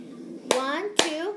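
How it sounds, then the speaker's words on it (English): Two crisp hand claps land about half a second apart on a table during a cup-rhythm game, close and distinct, while a young voice speaks over and between them. "you tap with your hand, you clap on the table"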